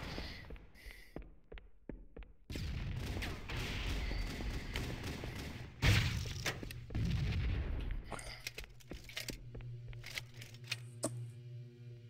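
Gunfire and explosive blasts from the game Halo CE in a PC multiplayer match, a sequence of sharp bangs followed by heavy booming bursts and rumble at close range, with quieter clicks between.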